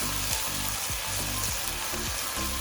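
Egg frying in oil for fried rice while being mixed in the pan: a loud continuous sizzle with regular spatula scrapes and knocks about twice a second, close and alone.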